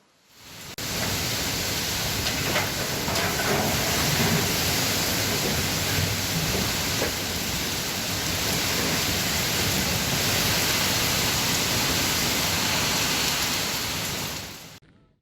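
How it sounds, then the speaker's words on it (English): Strong, gusty cyclone winds roar in Pune as a dense, continuous rushing noise that holds at a steady loud level for about fourteen seconds, close and unbroken, with no voices. "extremely strong, fierce and gusty winds being felt in Pune as well."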